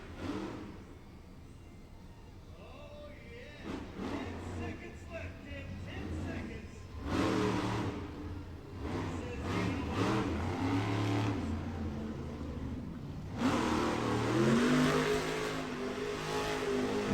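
At an arena show in Puyallup, a monster truck that seems to have a mechanical problem revs its engine in long rising and falling roars while spinning a donut, with crowd noise and a commentator talking over it throughout.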